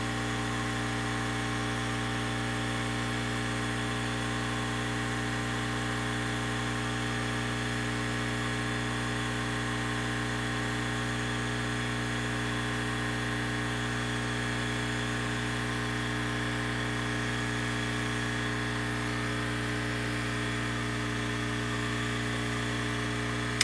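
A hot air gun blows a steady, even hiss with a constant tonal hum, unchanging for the whole stretch, warming the perimeter of a Sony Xperia Z3 Compact during a phone repair.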